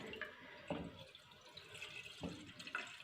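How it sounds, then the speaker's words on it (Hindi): Five cups of water pour into a pan for hot and sour soup, a soft, faint trickling and splashing with a few brief louder gurgles, close and without speech. "तो सबसे पहले पैन में हम शामिल करेंगे पानी"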